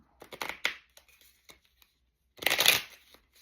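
Playing cards are cut and handled close up: a few crisp papery flicks and slides, then a quiet pause and a louder riffling burst near the end.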